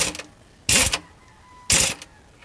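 Air impact gun on the oil drain plug of a 2011 Ford F-150, two short loud rattling bursts about a second apart with quiet gaps between, no talking.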